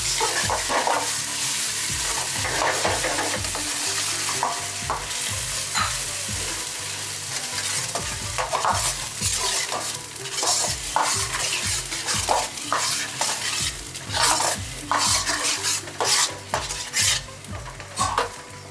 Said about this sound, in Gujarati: કાંદાની જે ગ્રેવી કરેલી હતી તે બી હવે આપણે આના અંદર એડ ઓન કરી દેવાની છે એને હવે આપણે સારી રીતે મિક્સ કરી લઈશું